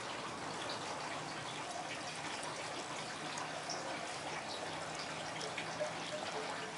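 Girardin Gueuze 1882 Black Label, a 5% Belgian beer, pours into a glass with a steady, soft hissing splash that runs evenly throughout, faint and close, with no talking.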